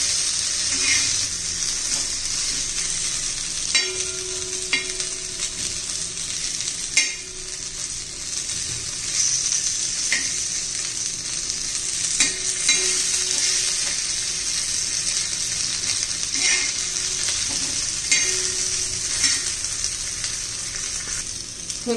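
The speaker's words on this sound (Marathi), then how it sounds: "छान असं आपण शालो फ्राय करून घेऊया." Fenugreek methi balls shallow frying in oil, a loud continuous bright sizzle holding steady throughout with faint scraping and occasional soft knocks nearby.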